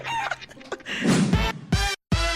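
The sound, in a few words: person imitating a chicken's voice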